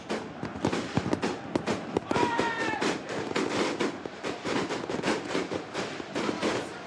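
Fireworks burst during a Levski Sofia football title celebration, with rapid irregular cracks and bangs filling the air over crowd noise, including a rising whistle partway through.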